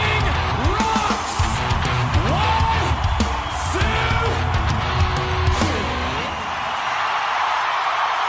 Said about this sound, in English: They just screamed.